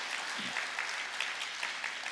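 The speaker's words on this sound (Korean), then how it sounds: "우리 어린 우리 학생들에게 한번 박수, 감사 박수, 우리 격려 박수 우리가 보내주면" A church congregation claps for a group of young students, steady dense applause filling the short moment without a break.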